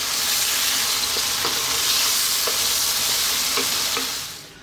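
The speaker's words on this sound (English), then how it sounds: "on this high heat, we're going to stir fry this around" Pork in sauce is stir-fried over high heat for a Chinese braised pork rice bowl, giving a loud, continuous sizzle with occasional utensil taps and scrapes up close before it fades at the end.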